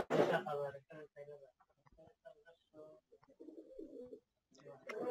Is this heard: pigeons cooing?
yes